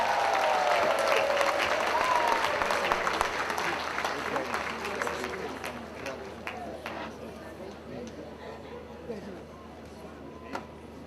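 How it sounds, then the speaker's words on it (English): Large crowd applauding at a corporate awards gala dinner in Uganda, loud at first and gradually fading, with a voice over the start and scattered claps and chatter lingering toward the end. "let's give a huge round of applause to Fresh Cuts Uganda!"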